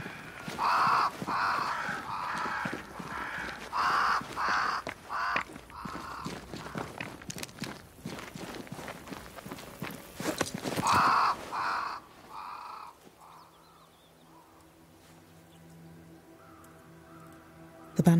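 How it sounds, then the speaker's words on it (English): Crows flocking around a great tree in the video game Banishers: Ghosts of New Eden, cawing repeatedly in loud clustered bursts over several seconds, then fading into a quieter ambient stretch. "Crows. They flock to that great tree up there."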